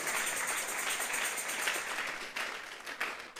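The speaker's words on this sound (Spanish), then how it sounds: "Fuerte esas palmas al Dios de la gloria" A church congregation claps and applauds during a sermon, giving a dense, continuous wash of hand claps that holds steady before thinning out slightly near the end, with no talk over it.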